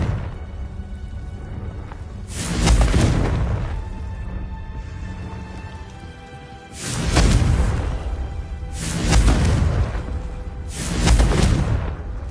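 Confringo blasting spell from the Hogwarts Legacy video game, played on PS5, erupting in four loud booming bursts, each with a broad crackling tail, separated by a few seconds of quieter background ambience.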